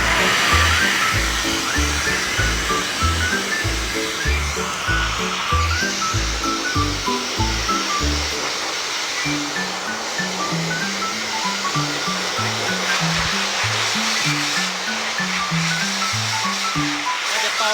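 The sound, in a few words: hair dryer blow-drying a pet's fur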